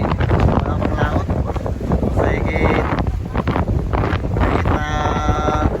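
Strong monsoon wind buffeting a small fishing boat at sea, roaring steadily against the microphone throughout, with a voice speaking briefly over the gusts.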